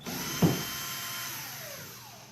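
A power drill drives screws into a wall to mark holes for an essential oil rack, giving a short burst of motor whine with a sharp click at the start, then a steady high hum that winds down, close and with no talk.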